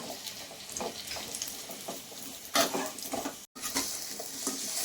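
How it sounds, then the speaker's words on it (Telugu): Dates frying in a pan on a stove while being stirred to soften them for dry fruit laddu, a soft continuous sizzle with repeated scraping stirs up close and one brief silent break. "మన ఖర్జూరం ఒక 2-3 నిమిషాలు వేయించుకొని స్టవ్ అయితే ఆపేస్తున్నానండి"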